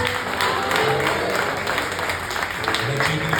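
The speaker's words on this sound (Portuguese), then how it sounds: "Uma salva de palmas ao Senhor Jesus Cristo." A church congregation gives a round of applause, a dense, continuous clapping of a crowd heard close with voices mixed in.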